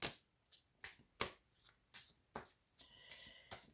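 Oracle cards shuffled for a reading, a series of crisp riffling bursts repeating roughly every half second, close and fairly quiet with no voices.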